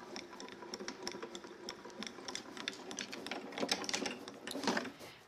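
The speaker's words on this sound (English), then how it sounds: "I'm going to run this through and cut it" Die-cutting machine pressing cardstock through its plates, a faint, quick clicking and rattling that runs steadily and grows a little louder toward the end, with no voices.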